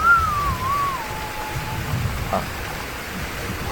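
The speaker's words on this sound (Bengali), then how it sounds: "দেখুন, বৃষ্টির তীব্রতা কতই না বেশি।" Heavy rain pours down in a steady, dense hiss, with a brief thin whistling tone drifting over it during the first couple of seconds.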